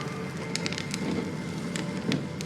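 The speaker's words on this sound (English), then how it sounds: "When will this rain ever stop?" Steady rain falls on a surface beside stagnant water, with constant hiss and scattered droplet patter and crackles throughout, no voices.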